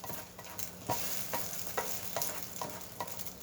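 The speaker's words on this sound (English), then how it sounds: "let's move this egg around a little bit here" An egg pushed around in hot frying oil, a steady broadband sizzle with a series of soft scraping stirs repeating about every second, close and fairly quiet with no talking.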